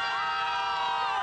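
A crowd cheering and whooping as a singer arrives for a Spanish-language Anastasia event, a dense continuous roar of many voices, loud and unbroken throughout.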